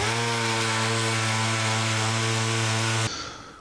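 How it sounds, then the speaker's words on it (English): A power grinder whines loudly and steadily against a metal fuel pipe for a 1949 Chevrolet gasser, removing grind marks, then stops abruptly with the motor spinning down. "Now we're going to take some of the grind marks out of this pipe."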